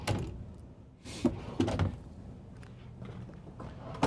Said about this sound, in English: So this one has a full extension as well, just to come out past the drawer